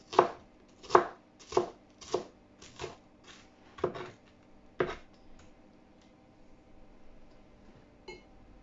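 A knife cuts onions into small pieces on a board: a quick run of crisp, close chops that slows, thins out and trails off into near silence with one last tap.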